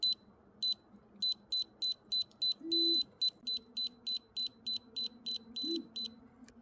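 A torque wrench beeps repeatedly in short, evenly spaced bursts, with one longer tone, while three 14 mm strut nuts on a Toyota Camry front strut assembly are torqued to 63 foot-pounds, over a low mechanical hum.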